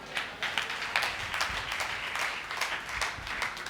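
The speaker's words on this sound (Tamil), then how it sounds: "கைத்தட்டி பாருங்க" Church congregation clapping together at a Sunday service, a steady rhythmic patter of many hands in a reverberant room, continuous and moderately loud.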